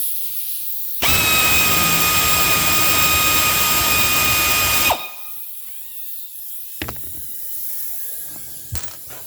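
A power tool, probably a drill, removes screws from a 1991 Cadillac Fleetwood. It gives one loud, close, whining burst lasting a few seconds, then stops, followed by a few faint clicks and knocks.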